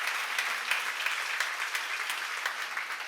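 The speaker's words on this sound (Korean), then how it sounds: "박수로 하나 더 해주세요" A church congregation claps together during a sermon seminar, steady dense applause sustained throughout with no speech over it.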